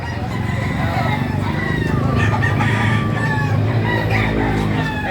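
Native chickens clucking and a rooster crowing amid dense farmyard noise in Calumpit, Bulacan, Philippines, close and loud, with people talking in the background.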